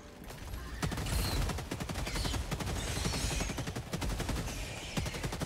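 Rapid bursts of LAS-16 Sickle laser rifle fire in Helldivers 2, a dense, crackling stream of repeated shots with brief pauses between volleys, loud and close over a busy battle backdrop.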